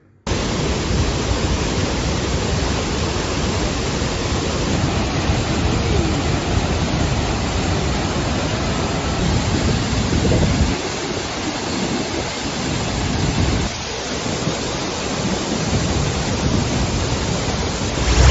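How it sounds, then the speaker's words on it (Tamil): Thirparappu waterfall running at heavy flow after rain, a steady, dense roar of pouring water that fills the scene without pause, with no voices. "திருப்பரப்பு அருவியில் தண்ணீர் அதிக அளவில் கொட்டியது"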